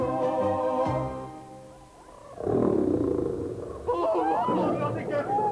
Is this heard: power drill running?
no